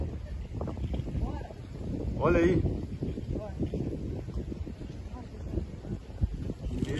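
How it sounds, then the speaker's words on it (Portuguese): Strong, gusting wind buffets the microphone as an approaching sand and dust storm rolls in across a river, with a roaring surge midway while people talk excitedly over it. "Olha o vento chegando."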